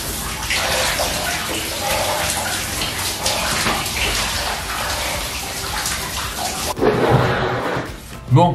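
A cold shower runs in a loud, continuous rushing spray that shifts abruptly in tone near the end, as if the stream is moved or interrupted.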